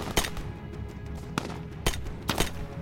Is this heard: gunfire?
yes